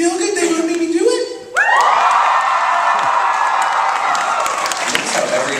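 A live audience at a VidCon 2011 panel cheers and screams: loud, sustained crowd roar with high-pitched shrieks and whoops, swelling after a brief dip and holding steady throughout.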